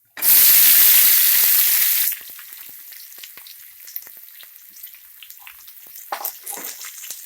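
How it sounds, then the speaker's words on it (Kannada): Starfruit tipped into sesame oil with crackling cumin seeds, bursting into a loud, intense sizzle for about two seconds before settling to a quieter, steady frying crackle with occasional small spits. "ಜೀರಿಗೆ ಚಟಪಟ ಅಂದಮೇಲೆ ಸ್ಟಾರ್ ಫ್ರೂಟ್ ಹಾಕ್ಕೊಳ್ಳಿ."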